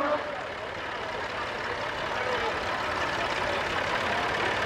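A T20 tractor at a vintage tractor event, its engine running with a steady, dense rumble at moderate distance and faint voices in the background.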